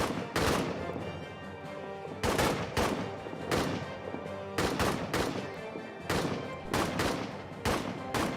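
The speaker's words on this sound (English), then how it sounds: "The thunder of the cannons. Our own artillery is shooting at us." Heavy booming artillery blasts in the trench warfare game Casualties of War go off repeatedly in irregular bursts, loud and close, with rumbling in between.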